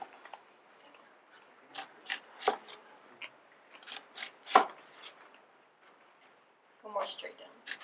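A sharp knife cuts food while a Thanksgiving dinner is being prepared, with several close, crisp slicing strokes separated by short pauses, and a quiet voice faintly underneath.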